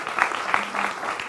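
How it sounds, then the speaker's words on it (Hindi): A studio audience claps to welcome a guest on a Hindi TV political debate show: a short burst of steady, moderately loud applause with faint voices underneath. "जोरदार तालियों से इनका स्वागत करिए"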